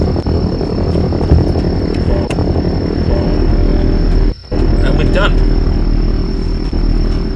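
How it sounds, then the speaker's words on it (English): Helicopter in a classic video game, a loud, steady rotor drone that runs throughout, cut briefly by a short dropout near the middle, with a person speaking over it. "It looks like a real helicopter."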